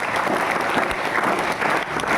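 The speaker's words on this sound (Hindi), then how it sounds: "एक बार जोरदार तालियां अपने सबके लिए" Brief, lively applause from an audience at a talk on the secrets of happiness, with many hands clapping densely and steadily at close range.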